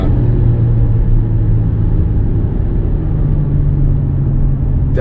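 A 2019 Volkswagen Touareg V6 TDI at full throttle gives a loud, steady low rumble of diesel engine and road noise from inside the cabin, sustained throughout.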